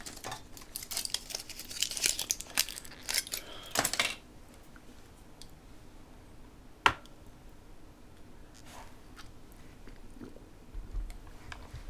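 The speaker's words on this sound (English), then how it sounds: "The packaging noise was an antibiotic, which I thought I may as well take now" Antibiotic medicine packaging handled up close, sharp crinkling and crackling bursts for several seconds, then quiet with one sharp click and faint occasional rustles.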